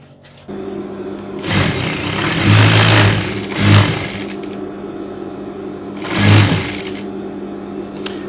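A serger sewing machine stitches fabric for a long cardigan, whirring loud and close in a few sustained runs that speed up and slow down, with short pauses between them.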